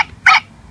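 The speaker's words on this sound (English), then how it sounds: "Dog." A single short dog bark, sharp and close, rising from near silence and stopping at once; it comes from a children's toy that plays animal sounds.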